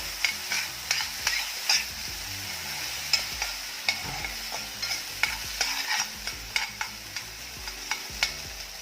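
Soaked sago pearls sizzle in hot ghee while a spoon stirs them with quick, repeated scraping taps against the pan, close and steady.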